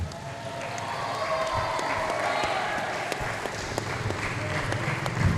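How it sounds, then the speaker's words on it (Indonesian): Studio audience clapping at a Banyuwangi TV dialogue show, a steady moderate wash of applause with faint voices mixed in, continuing evenly across the moment. "Tepuk tangan lagi yang meriah untuk kita semuanya."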